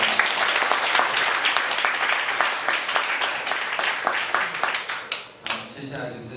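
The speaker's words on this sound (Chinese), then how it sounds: "大家热烈掌声" Enthusiastic audience applause after an hour-long evening talk, with thick, rapid clapping that stays loud for several seconds before thinning into scattered claps and tapering off at the end.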